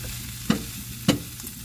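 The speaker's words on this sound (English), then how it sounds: "Now I'm going to give it a good stir." Sausage and potatoes fry in a pan as a utensil stirs them, with two distinct scraping stirs over a steady close sizzle.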